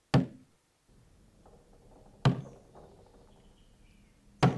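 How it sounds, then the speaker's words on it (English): Sharp, isolated knocks on a door in The Walking Dead: The Final Season game, three loud separate raps spaced a couple of seconds apart, with quiet room tone between them. "Who's knocking on the door?"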